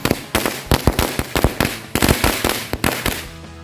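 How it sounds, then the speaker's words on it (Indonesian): A mini Woody Woodpecker firecracker sets off a rapid string of small pops that crackle in an irregular burst, loud and close, fading out at the end. "Selanjutnya kita coba mercon mini woody woodpecker."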